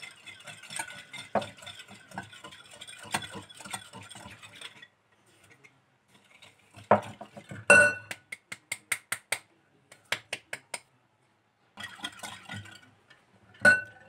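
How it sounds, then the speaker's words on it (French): Sugar being gradually mixed into coffee cake batter in a bowl, with repeated scraping and clinking strokes of a utensil against the bowl in quick rhythmic bursts separated by short pauses, close and fairly quiet. "J'incorpore le sucre petit à petit."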